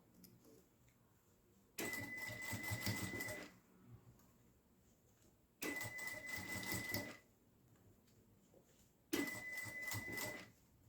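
A sewing machine stitches bias binding along a zipper in three separate bursts of rapid whirring, each lasting one to two seconds, with quiet pauses between them.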